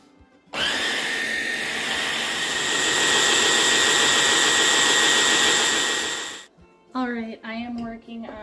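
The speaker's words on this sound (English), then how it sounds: "We are going to run the mustard in a couple of batches through the food processor" A food processor whirs loudly and steadily for about six seconds while blending mustard for canning Dijon, starting and stopping abruptly, followed by a person speaking.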